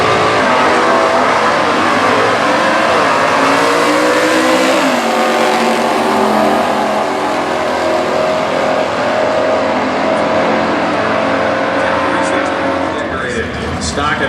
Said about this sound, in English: now we have a 1996 Corvette with a stick shift in it.